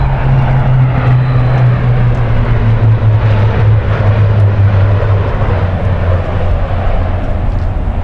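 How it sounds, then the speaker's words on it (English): A Lockheed C-130J Super Hercules tactical transport aircraft of the Indian Air Force passes overhead at the Republic Day Parade air show in 2019, giving a loud, steady propeller-engine drone with a low tone that slowly falls in pitch throughout. "Super Hercules is a very versatile tactical transport aircraft."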